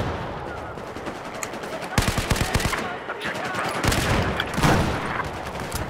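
Automatic gunfire from a Battlefield 4 match, bursts of rapid shots with the heaviest volleys around the middle and near the end, loud and close over a busy battlefield din.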